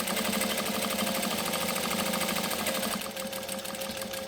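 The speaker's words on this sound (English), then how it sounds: "So I'm only going to sew the long edges." A sewing machine stitches the long edges of fabric, a fast, steady mechanical chatter close by that runs continuously and eases slightly toward the end.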